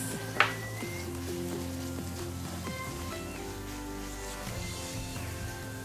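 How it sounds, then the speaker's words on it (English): Peppers and tomato paste fry in a pot for jambalaya, giving a soft, steady sizzle with a faint bubbling crackle and one sharp clink near the start. No one speaks. "I'll allow this to fry for a few minutes"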